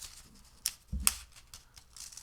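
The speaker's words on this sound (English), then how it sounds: "We're just going to cut where the line is." Scissors cutting paper for a Valentine's flip flop craft, a few quiet, sharp snips with one louder clipped cut near the middle and soft rustling between them, close by with no voices.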